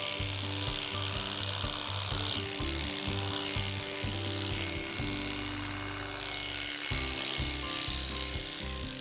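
Electric horse clippers with a size 10 blade buzz steadily while trimming a horse's face, a loud continuous motor drone with shifting pitch as the blade moves through the hair, close up.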